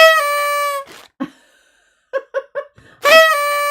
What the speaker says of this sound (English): A party noisemaker.